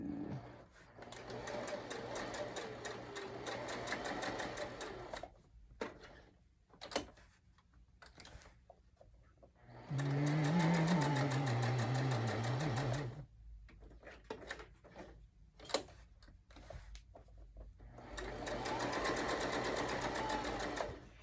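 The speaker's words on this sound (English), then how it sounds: "we're going to sew this 1/4 of an inch all the way around" A sewing machine stitches a quilt square for a wall quilt in three quick whirring bursts of rapid mechanical ticking, separated by quieter pauses with soft handling clicks, heard close and moderately quiet.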